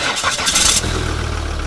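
A truck engine cranks briefly with a whirring starter, catches and settles into a steady, loud, close idle with a rhythmic low rumble.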